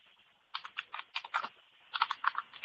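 Bursts of keystrokes on a computer keyboard in two quick, clattering runs with a short pause between them, close and fairly quiet, with no talking.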